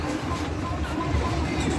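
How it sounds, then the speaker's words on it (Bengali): A train pulls into a station, a steady low rumble of rolling cars heard at moderate distance alongside ambient crowd noise, with no distinct horn. "এই যে ট্রেন চলে আসছে,"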